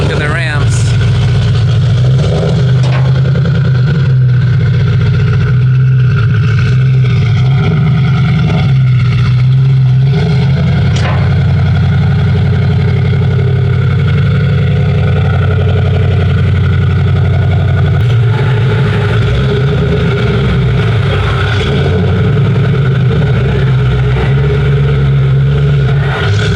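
An Audi S4 engine idles and pulls onto dyno rollers, with a steady low rumble that swells briefly with light throttle and stays loud and close throughout, while faint background noise sits underneath.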